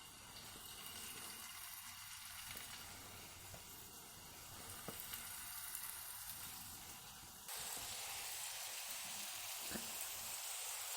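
Hot oil sizzles in a pan for frying köfte meatballs, a soft steady hiss that jumps louder and brighter partway through and keeps going with no voices.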